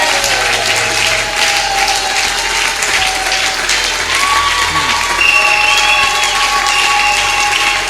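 Church congregation applauding loudly and steadily, a dense wash of clapping with some cheering and crowd voices mixed in.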